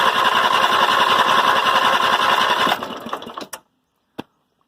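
Westwood garden tractor engine cranking with the throttle wide open: a loud, steady rapid chugging that runs for nearly three seconds, then stutters and dies away, followed by silence and one short knock.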